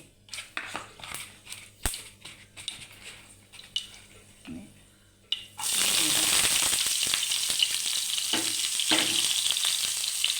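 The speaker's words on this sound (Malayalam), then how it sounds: "ഉള്ളി ഇട്ട് മൂത്തിട്ടുണ്ട്." Onions fried in hot oil with mustard seeds and fenugreek for a mango curry: faint scattered crackles and spoon taps first, then a sudden loud, steady sizzle erupts as the onions hit the pan, close up.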